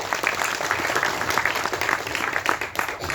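Brief burst of audience applause at a Tamil movie audio launch event: dense, steady clapping from a large crowd, loud and continuous for a few seconds.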